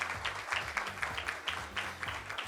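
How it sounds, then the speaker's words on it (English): An audience at a regional meeting claps in brief applause for the police department, a dense patter of many hands, fairly close and steady. "Let's give our police department a round of applause."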